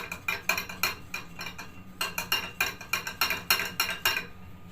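A spoon stirs a protein meal mixture in a bowl after water is added, giving quick rhythmic clinks and scrapes that repeat steadily, close and clear, with no voice.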